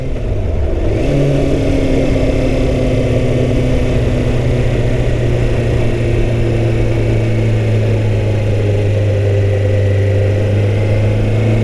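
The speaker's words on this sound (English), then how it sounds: "Okay, so I'm going to downshift." A Kawasaki Ninja 636 sport motorcycle engine drops through the gears, its loud, steady drone shifting pitch as revs fall and settle at close range for the whole stretch, with no talking.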